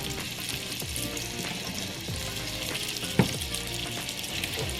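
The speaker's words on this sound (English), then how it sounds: "I know this is not the pan you should be cooking steaks on" A steak sizzles and fries steadily in a pan, a dense continuous crackle with a sharp clink or pop partway through, close and fairly loud with no voices.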